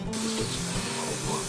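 A close, hissing spray of foaming degreaser, steady and fairly loud, with a low rumbling motor underneath.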